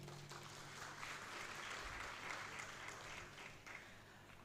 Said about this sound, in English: I think you should clap for yourselves.